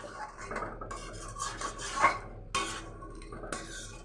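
A lid is set down over a pot of simmering potatoes for a vegetarian potato and pointed gourd curry, giving several close metallic clinks and scrapes of metal on metal in a quiet kitchen.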